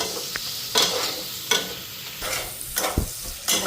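Catla fish head frying in hot oil while being stirred, with several bursts of scraping and sizzling at irregular intervals over a steady background crackle, close and moderately loud.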